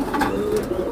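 Fancy pigeons at a large loft farm in Jhenaidah coo in low, soft, rolling calls amid a busy background murmur.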